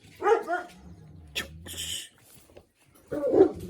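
A dog barks a few times up close, with whiny yelps between the barks and a short hissing noise in the middle.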